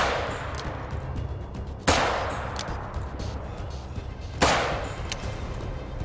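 Two sharp pistol shots fired at a hog in theHunter: Call of the Wild, each a loud close crack with a trailing echo, spaced a couple of seconds apart over a steady outdoor hum.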